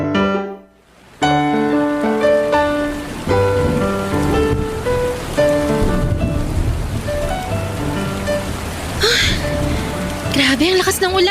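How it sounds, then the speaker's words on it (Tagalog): Heavy rain hisses steadily behind a musical score with tonal notes, continuing throughout beneath the music with no voices heard. "Grabe, ang lakas ng ulan."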